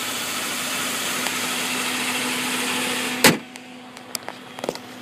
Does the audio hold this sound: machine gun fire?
no